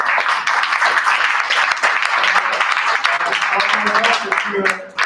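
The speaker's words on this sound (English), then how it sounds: "Round of applause." Audience applause at an African American and Native American symposium, a dense sustained wash of clapping filling the room for several seconds before tapering off near the end.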